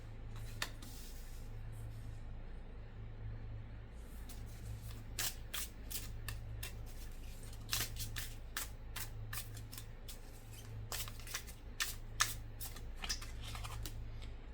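Tarot cards riffle and slap together in repeated bursts, near and moderately loud, over a steady low hum, with no talking.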